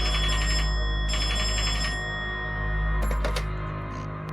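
A telephone in a horror video game rings in two bursts of bell trills over a steady low hum, with sharp clicks and rattles near the end.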